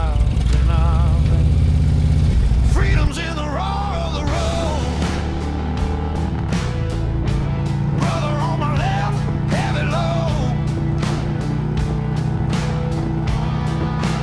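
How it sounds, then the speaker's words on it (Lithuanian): A motorcycle engine runs steadily at a constant drone on a cool ride toward Killua Castle in Ireland, heard close and continuous after an initial louder burst. "Variklis burzgia"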